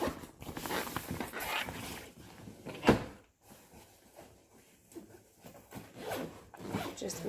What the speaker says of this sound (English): So I zip that closed